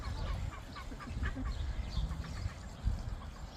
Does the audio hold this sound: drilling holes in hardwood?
no